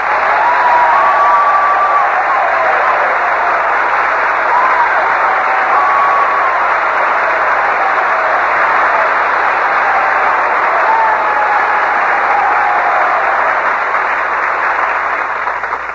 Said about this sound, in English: Well, Robert, you can tell by that applause that these boys are all intensely interested in your Navy career.